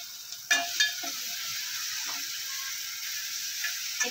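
Ginger and garlic fry in hot oil in a pan, a soft steady sizzle broken by a few clinks and scrapes of a spoon as they are stirred, close and fairly quiet.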